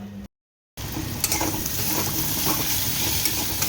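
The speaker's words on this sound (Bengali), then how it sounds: "নুন হলুদ দিয়ে আগে পেঁয়াজটাকে ভেজে নিচ্ছি" Onions frying in a pan with salt and turmeric, a steady close sizzle with light stirring scrapes running throughout after a brief silent gap at the start.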